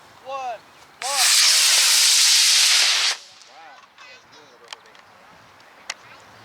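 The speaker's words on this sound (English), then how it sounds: "D12 motor. Ready to fly in 5, 4, 3, 2, 1, launch." A model rocket with a D12 motor launches with a sudden, loud roaring hiss that lasts about two seconds and then cuts off. Voices talk briefly before and after it outdoors.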